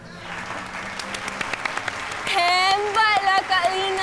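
Applause in a kitchen setting, first scattered claps and then a louder burst of many hands clapping, with voices chattering and calling out over it.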